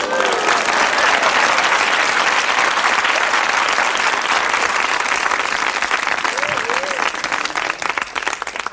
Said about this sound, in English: For which I generally get applause.